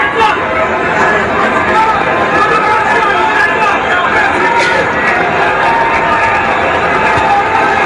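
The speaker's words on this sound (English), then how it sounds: "Well, the crowd You can hear the buzz." A dense crowd buzzes with chatter and scattered cheers while watching the Pacquiao–Bradley boxing fight in a barangay viewing, a steady loud babble of many voices throughout.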